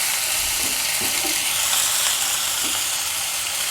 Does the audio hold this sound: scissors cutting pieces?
no